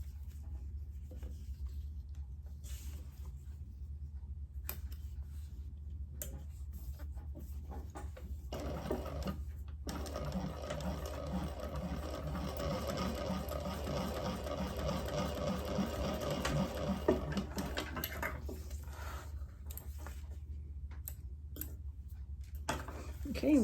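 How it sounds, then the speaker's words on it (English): A sewing machine stitches curved fabric pieces for a clamshell sling, running in a steady mechanical whir for several seconds between quieter handling sounds, close by, with a person talking at times. "So we're going to try and make sure we keep that curve when we sew."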